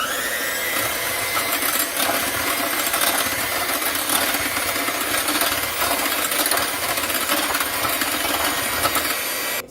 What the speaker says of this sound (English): with a hand mixer, you're going to mix this until stiff